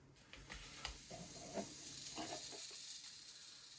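Pancake batter sizzles in a hot frying pan, a steady soft hiss with a few light scrapes and taps of a fork near the pan.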